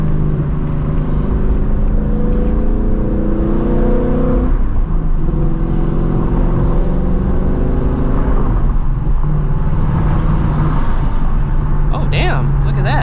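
A Ford Mustang GT S650 with its exhaust valves closed drives on the road, giving a steady, loud engine drone and road rumble throughout, with someone talking over it.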